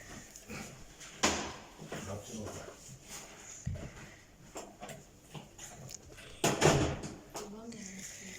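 Several door thumps and clatters from opening and closing sound over ongoing nearby chatter, with two sharper knocks standing out.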